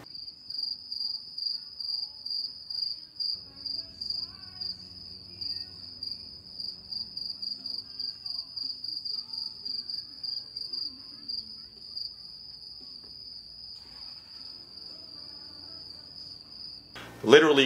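A cricket chirping sound effect gives a continuous, high, pulsing trill that carries steadily under faint, low background murmur, ending with a brief loud burst.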